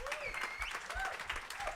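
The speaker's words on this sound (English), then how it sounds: "John Whitney, give him a round of applause." Faint audience applause at a live comedy show rattles softly in the background, mixed with chatter and a few raised voices.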